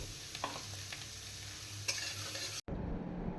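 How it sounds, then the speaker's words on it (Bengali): Onion and green chili frying in oil in a kadai, a steady close sizzle with spatula scrapes and stirring clicks, briefly dropping out before resuming, no talking. "পেঁয়াজ আর কাঁচা লঙ্কা এবার একসাথে দিয়ে দিলাম, দিয়ে এবার এটাকে কিন্তু তেলে হালকা করে একটুখানি ভালো করে একটু ভেজে নেব"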